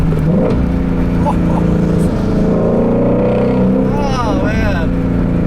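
A 2016 Shelby GT350 engine holds a loud, continuous rumble right after a downshift, building under someone talking excitedly over it.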